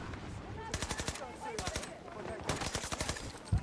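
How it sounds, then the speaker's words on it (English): PP submachine gun firing in the Battlefield battle royale video game, several rapid rattling bursts with short pauses between them, close and fairly loud. "Why does the PP sound like someone's put a playing card in their bike spokes?"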